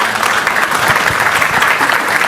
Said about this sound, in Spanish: pedirles un aplauso por ellos, por favor.